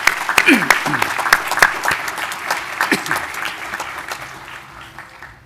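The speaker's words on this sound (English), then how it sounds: "we can give him a round of applause" Audience at a spring awards ceremony applauding an absent award recipient, a short burst of clapping that fades out with faint voices mixed in.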